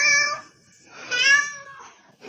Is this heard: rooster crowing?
no